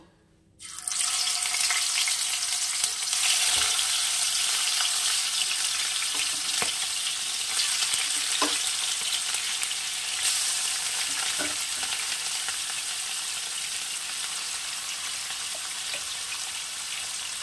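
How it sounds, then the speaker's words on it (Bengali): Gullible fish dropped into hot oil in a wok, bursting into a loud, steady sizzle that holds for the whole stretch with a few sharp crackles and no talking. "কড়াইতে তেল গরম হয়ে গেছে, আমি এগুলো এবার মাছগুলো ভাজার জন্য দিয়ে দেব।"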